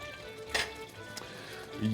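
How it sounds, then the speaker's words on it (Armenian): Food frying quickly in a pan over high heat for an Armenian home dish. A soft, steady sizzle runs throughout, with a brief clatter near the middle and another at the end. "Բարձր ջերմաստիճանի տակ արագ տապակում ենք"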